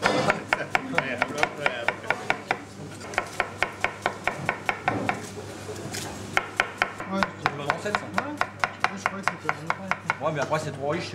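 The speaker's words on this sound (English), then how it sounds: "I admired his onion chopping technique." Rapid knife chopping of onions on a cutting board, steady bursts of sharp taps in quick runs with short pauses, close and clear over faint kitchen background.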